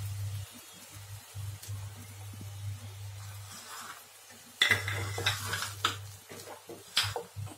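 A spoon stirs and scrapes turmeric and other spices as they roast in a pan for a jackfruit curry. Low sizzling runs underneath, with louder scraping and occasional clinks toward the end.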